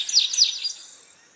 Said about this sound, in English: So the indigo bunting has a stuttering quality to it.